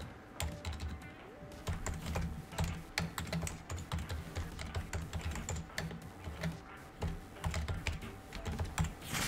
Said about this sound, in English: All of you who can hear me typing that out